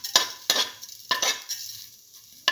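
Fenugreek and fennel seeds land in hot oil and are stirred, giving four sharp sizzling bursts with metallic scrapes from a pan, close and clear with no talking.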